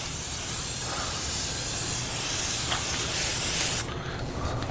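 Grill grates are sprayed in one continuous, close, loud hiss that cuts off shortly before the end, leaving a quieter background.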